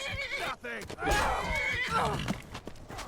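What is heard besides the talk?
horse neighing and hooves in Skyrim video game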